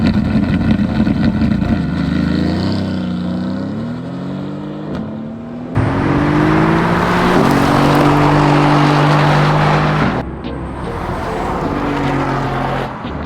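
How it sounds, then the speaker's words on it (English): A BYD Seal and a Mercedes-AMG GT S in a drag race: loud engine and motor drone with rising, stepping tones as the cars accelerate, a sharp surge of broadband roar midway, then the noise easing and building again. "the race between the BYD Seal and the AMG GTS"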